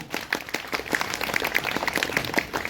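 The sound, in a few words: audience applause for poets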